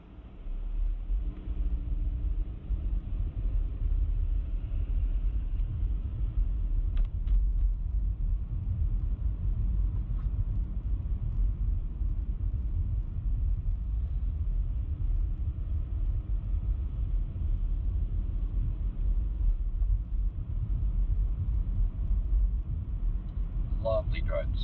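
Steady low road rumble inside a car on a morning drive south from Aloha toward Corvallis, Oregon, continuous and fairly loud throughout, with a few faint higher clicks near the start and end.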